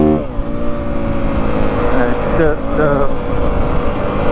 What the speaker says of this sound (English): I'm still in second gear revving it out because I know I'm gonna come slowing down